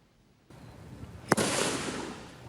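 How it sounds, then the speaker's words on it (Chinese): A single sharp gunshot rings out at fairly close range during shooting practice by young civilian resistance fighters in camouflage, in the mountains of Karen State in southeastern Myanmar. A sustained hiss and rumble follows, and no one speaks. "听到枪声，有一名穿迷彩衫的青年男女伫咧练习射击"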